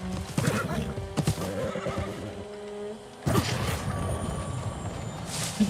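Horse in a video game neighing loudly with a long whinny, mixed with clip-clop hoof steps and some rustling, close and clear.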